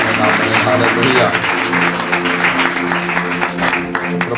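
Church congregation clapping to welcome the preaching of the word, a steady burst of applause blended with a voice and sustained tonal music underneath.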